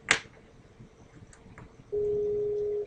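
A short click, then quiet with faint taps, followed by a steady Skype outgoing call tone that holds at one pitch until the end.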